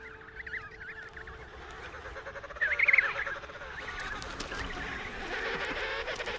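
Penguin chicks and adults calling at a breeding colony, a steady chorus of honking, goose-like cries with one louder call standing out near the middle.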